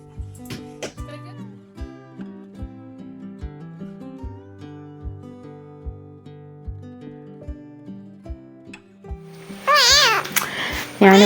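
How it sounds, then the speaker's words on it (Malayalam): A kitten gives a few short, wavering meows near the end, right after a stretch of plinking background music with a regular beat fades out. "ഇതുണ്ട് ഒരു പൂച്ചക്കുട്ടീനെ."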